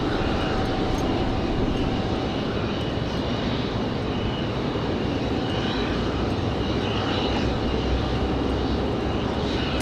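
An Aeromexico jet departing Raleigh Durham International airport for Mexico City gives off a sustained heavy engine rumble and roar, constant and loud across the whole stretch with no talk.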